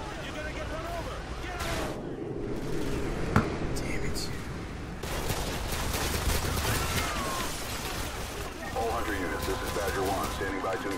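Gunfire in Call of Duty Modern Warfare 2: sustained rapid shots and crackling bursts throughout a dense battle mix, with talk over it.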